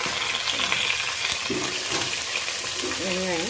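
Dried red chillies, curry leaves and onions fry in hot oil for a radish sambar, a steady close sizzle running throughout, with a brief spoken voice near the end.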